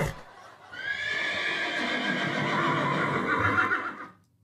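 A horse neighs loudly in a long, wavering whinny lasting several seconds, with a few faint hoof clops toward the end, heard up close with no talking.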